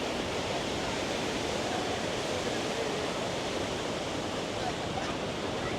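Iguazú Falls on the Brazil side roaring as a steady, dense wash of broadband noise that fills the whole stretch without a break, loud and close.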